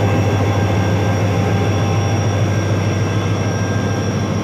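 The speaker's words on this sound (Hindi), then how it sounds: "मुझे इसकी नाचिंग साउंड बड़ी पसंद है" HGMU-30 diesel locomotive, number 8222, running with a loud, constant close-up engine drone and rumble holding steady throughout, with no talk.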